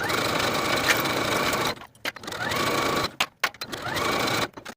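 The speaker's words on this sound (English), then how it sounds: "Now I'll sew my center front with a 5/8 inch seam allowance and press the seam open." A sewing machine stitches a center front seam on a peplum skirt in three fast whirring runs, stopping briefly between each with small clicks, close and clear.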